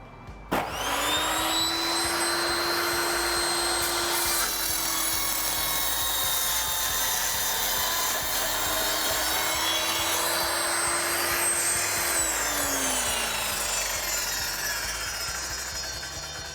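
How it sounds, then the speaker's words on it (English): A table saw with a sliding carriage whines up to speed and holds a loud, steady tone as it makes a straight cross cut through wood, then spins down at the end, close and without speech. "I've got this set at 90 degrees to the blade and I'm just going to cut it straight across."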